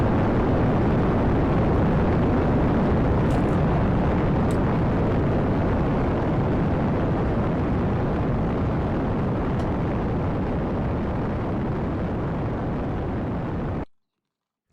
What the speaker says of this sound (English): Is it just me? Or a rocket's really loud?